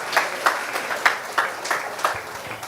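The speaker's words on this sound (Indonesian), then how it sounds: "tepuk tangan dulu" A small audience at a talk claps in a sparse, rhythmic pattern, with distinct separate hand claps spaced evenly rather than a dense roar of applause.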